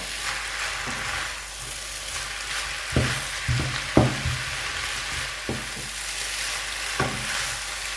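Glass noodles with egg stir-fry in a pan, a steady close sizzle broken by several sharp clanks and scrapes of a spatula against the pan.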